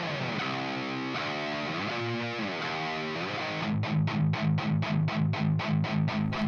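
Uncompressed distorted electric guitar, alone and loud: sustained crunchy chords for nearly four seconds, then a tight run of about a dozen rhythmic palm-muted chugs.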